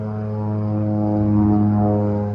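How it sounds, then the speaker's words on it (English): A crop-spraying propeller airplane drones overhead, a steady throbbing engine hum that swells slightly louder as it passes, with no voices. "Here comes that airplane back."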